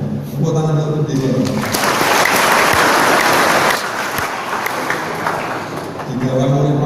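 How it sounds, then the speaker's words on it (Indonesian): Loud sustained applause from a large crowd at a Maulid Nabi celebration at an Aceh training institute, rising and lasting several seconds between amplified speech at the start and end. "Tepuk tangan untuk dekor."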